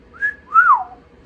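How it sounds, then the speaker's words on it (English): A human wolf whistle, one sharp rising note followed by a longer falling swoop, loud and close, alone against quiet background. "We're gonna wolf whistle at them like,"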